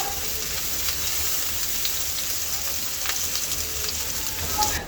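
Close, steady hiss of chopped onion frying in oil in a kadai, a rain-like sizzle with faint stirring ticks and no break throughout.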